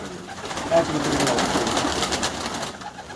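Pigeons coo softly and repeatedly over a steady, hissy outdoor background, with a faint murmur of people in the distance.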